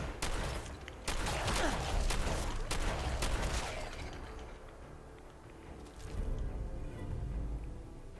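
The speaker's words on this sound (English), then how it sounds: "We're just going around shooting ghouls in the face." Rapid bursts of gunfire in Fallout 4 as ghouls are shot, several sharp close shots in quick succession followed by quieter mechanical clicks and movement, with no talk.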